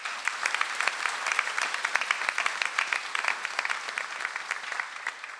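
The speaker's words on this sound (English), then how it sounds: "Give yourselves a round of applause." Students and guests at a Dean's List recognition ceremony clap together in sustained, even applause, a crisp dense patter of many hands that stays level for several seconds without talk.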